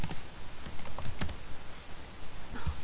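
Quiet clicking of keys being typed on a computer keyboard in a short burst, a few sharp taps close by with a faint room hiss and no talking.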